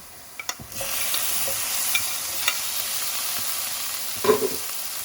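Tomatoes go into masala sizzling in a pan for Kerala-style prawn biryani, giving a steady, close frying hiss. A few soft clinks and stirring scrapes sound over it, with no talk.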